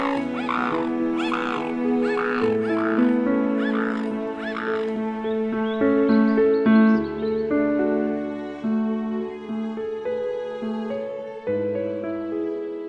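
A cartoon crow in a Telugu children's moral story gives several harsh, repeated caws early on, loud and close, followed by sustained background music with no speech.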